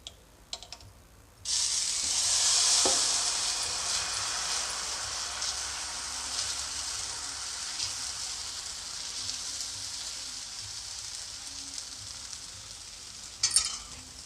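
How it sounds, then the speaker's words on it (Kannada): Oil hisses and sizzles on a hot tawa heated for rava dosa, a sudden bright crackle that swells and then settles into a steady frying hiss, close and continuous. "ಅದಕ್ಕೆ ಸ್ವಲ್ಪ ಎಣ್ಣೆ ಹಾಕ್ತಾಯಿದ್ದೀನಿ ಈಗ ಹಂಚಿ ಕಾದಿದೆ"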